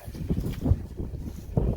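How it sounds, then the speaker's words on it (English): Gusty wind buffets the microphone in low, uneven rumbling bursts, with no other clear sounds. "See, it's windy."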